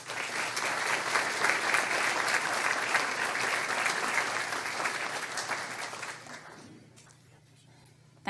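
An audience at a community meeting applauding, a dense sustained round of clapping from a roomful of people that fades out over the last two seconds, leaving near silence.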